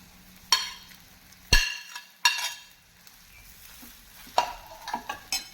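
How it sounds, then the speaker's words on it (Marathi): Potatoes stirred in hot oil with turmeric for rasa puri bhaji, giving a few sharp scraping stirs and clatters over a faint, steady frying sizzle, close by with no talk. "हळद घालून आपण तेलावर चांगली परतूया आणि आता आपण त्यामध्ये बटाटा घालून घेणार आहोत"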